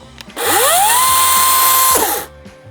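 An electric saw whines at high speed, then a sudden jolt as it kicks back, the motor pitch dipping and recovering before the electric brake cuts it off abruptly.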